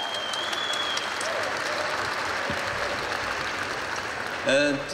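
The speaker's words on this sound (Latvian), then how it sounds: "Aplausi!" Sustained applause from a large audience at a State Police anniversary celebration in Arēna Rīga, a dense even clapping wash for several seconds, with a voice briefly rising over it near the end.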